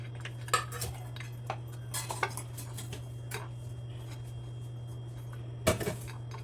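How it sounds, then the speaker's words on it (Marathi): Cumin, sesame seeds and dry masala are dry roasted in a pan, heard as scattered close metallic clinks and scrapes of a spoon against the pan over a steady low electrical hum, with no talking. "तीळ जिरे आणि हा कोरडा मसाला हा एवढा भाजून घ्यायचा आहे"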